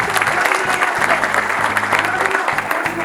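Loud, sustained applause from a crowd cheering the women's premier league football champions, dense clapping throughout with a voice heard over it.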